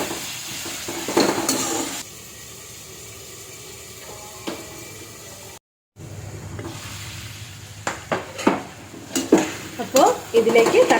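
Ginger garlic paste being stirred into prawn biryani masala in a pan, a low sizzle with spoon scrapes and clanks against the pot, growing busier and louder after a short gap.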